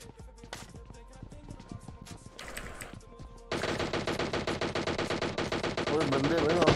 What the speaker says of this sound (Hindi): फायरिंग की आवाज आई?